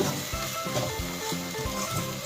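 Apple pieces cook in powdered sugar in a pan for an eggless apple cake, stirred until the mix clumps together; soft sizzling runs throughout, with a spoon scraping in a steady, rhythmic back-and-forth.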